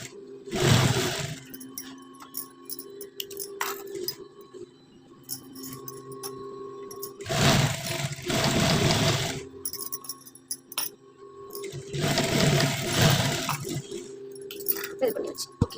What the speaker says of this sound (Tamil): நான் எப்பயுமே ஷோல்டரில் வந்து 3 தையல் போட்டுக்குவேன்